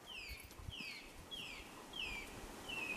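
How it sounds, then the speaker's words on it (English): A bird sings repeatedly during an outdoor descent, five clear descending whistled phrases spaced about half a second apart over faint wind and rustle. "Listen to those birds."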